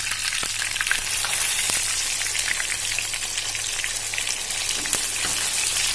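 Fish deep frying in hot oil, a dense steady crackling sizzle like rain with occasional sharper pops, close and continuous, with no speech.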